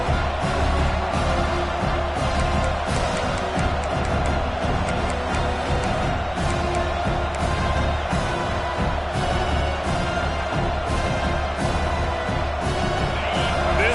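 Football stadium crowd at a Notre Dame versus Oklahoma State game keeps up a loud, continuous roar of cheering and noise from the stands, with a commentator's voice mixed in.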